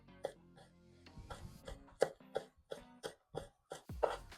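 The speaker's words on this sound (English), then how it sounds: "Chop it up finely." Fresh rosemary being chopped finely with a knife on a board, a series of about ten crisp, close chops, spaced irregularly at first and then in a steadier rhythm.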